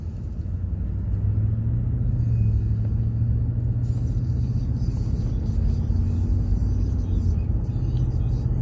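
A 2011 Ford F-150 pickup with a transmission stuck in fifth gear drives along, its engine a steady low rumble with road noise and a faint rising whine, heard from inside the cab with no talking.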